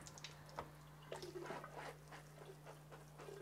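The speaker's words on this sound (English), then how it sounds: "now all I'm going to do is just water it really well." Water sprinkled over soil covering freshly planted dry wheat berries, a faint, close patter of splashes and drips with a low steady hum underneath.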